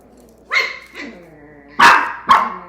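Indoors at close range, a dog lets out four sharp barks. The first two are softer, and the last two come louder and faster, with quiet gaps between them and nobody speaking.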